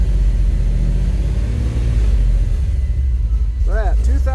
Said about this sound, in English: So let's get the RPMs up a little bit.